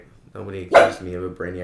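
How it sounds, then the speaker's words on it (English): A dog barks once sharply and loudly in the middle of ongoing speech, with someone talking before and after the bark. "That is my dog."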